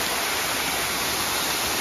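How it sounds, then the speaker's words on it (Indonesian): Steady, dense roar of a mountain waterfall on Mount Pangrango, heard from above, fills the space evenly, loud and unbroken, with no voices over it. "Nah, ini dia air terjunnya."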